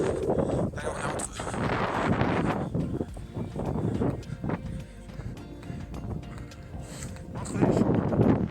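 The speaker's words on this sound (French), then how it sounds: "Il y a pas mal de vent." Cold, strong wind buffets the microphone on an uphill run between fields, a continuous rough rumble with gusts, and a voice talks briefly over it.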